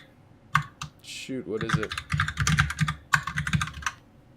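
Rapid bursts of typing on a computer keyboard during an Overwatch session, the clacking quick and uneven, running under casual speech from a player.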